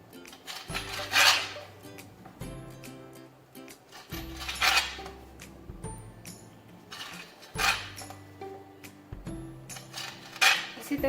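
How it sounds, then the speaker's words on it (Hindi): A knife trims the crusts off six bread slices, giving a series of scraping, crunchy cuts every couple of seconds with light knocks against the board between strokes. "6 स्लाइस मैंने ब्रेड के लिए, किनारे हम काट देंगे"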